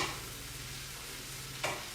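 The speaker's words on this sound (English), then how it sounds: "so just give that a stir." A sizzling chicken fajita mixture is stirred in a hot pan, giving a steady close hiss of frying with a sharper scrape from the stirring near the end.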